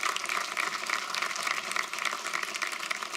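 Studio audience applause at an Antakshari League musical reality show, a dense, steady wash of clapping that holds at even loudness for about three seconds with no speech.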